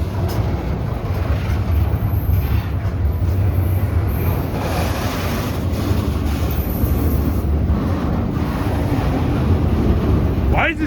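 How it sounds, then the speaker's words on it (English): A KCS intermodal freight train loaded with shipping containers rolls slowly past a crossing, a steady close rumble of wagons with wind buffeting the microphone throughout. "Why is this train going slow?"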